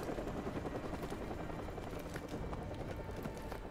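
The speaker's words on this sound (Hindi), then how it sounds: "ओ तेरी भाई साहब, हेलीकॉप्टर पे।" A helicopter in Call of Duty Modern Warfare 2 Remastered thumps steadily and loudly, its dense rotor chop filling the scene at close range with no pause.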